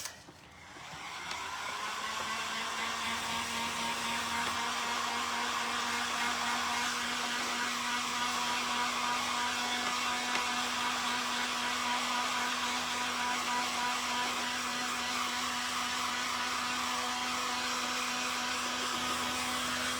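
Hair dryer blowing steadily to dry paint on a thrifted vintage chicken figurine, a continuous loud whooshing hum with a steady tone, running alone for the whole stretch after a quick start.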